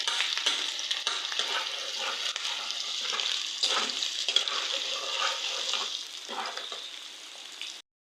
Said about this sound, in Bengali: আলু ভাজিটা হয়ে গেছে